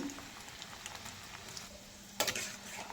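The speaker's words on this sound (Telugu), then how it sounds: "తర్వాత ఒక 10 నుంచి 15 వరకు ఎండుమిర్చిని కూడా యాడ్ చేసుకోండి. అన్నీ మంచిగా వేగాలి." Dried red chillies fry in hot oil in a pan, a steady soft sizzle with light stirring and a brief louder crackle near the end.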